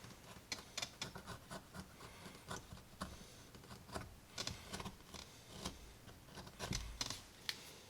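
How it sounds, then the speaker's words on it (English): A razor blade trims the edges of a leather belt, giving a steady run of close, sharp scraping and snipping clicks in an irregular rhythm, with no talking. "Now to get those edges nice, I will go back to my razor blade and I will trim it up."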